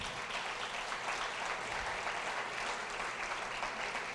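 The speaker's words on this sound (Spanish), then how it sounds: "Si le va a dar un aplauso, déselo a él bien fuerte" Steady, even applause from a church congregation, a broad wash of many hands clapping continuously at moderate volume with no break and no talk over it.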